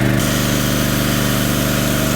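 A Champion 7.0 kW dual-fuel generator (CPG7500E2-DF-EU) runs on LPG gas under an added angle grinder load, a loud, steady, close engine drone with a constant low hum and no talk.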